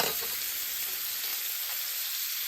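A ribeye steak fries in melting butter with garlic, giving a loud, steady, close sizzle that hisses without a break and with no voices over it.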